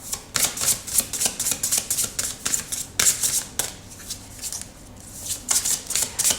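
A deck of oracle cards shuffled up close in a long run of rhythmic riffling flutters that ease off briefly near the end before picking up again, with no talking.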